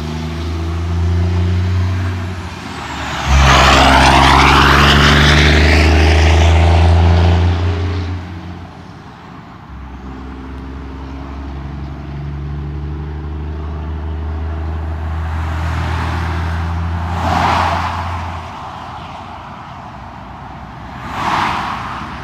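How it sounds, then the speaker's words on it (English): Cars and trucks speeding past on a city road in Hattiesburg, Mississippi, with one loud close vehicle roaring by early on, a hiss like an air brake, then further quicker whooshes of traffic passing. "Cars are flying."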